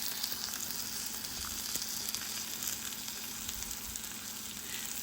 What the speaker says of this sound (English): while these apples are cooking up so beautifully